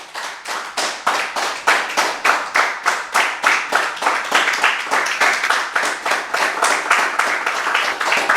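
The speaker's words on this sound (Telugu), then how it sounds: "పతాంజలి మహర్షికి ఒకసారి గెట్టె క్లాప్ చేసుకుందాం" An audience claps loudly and in unison at a yoga and meditation gathering, sharp rhythmic claps repeating steadily for several seconds with no talk over them.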